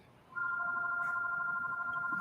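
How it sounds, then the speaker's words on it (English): A telephone rings with a sustained electronic trill that starts abruptly and holds steady at moderate volume, heard alone without speech. "here goes the phone again"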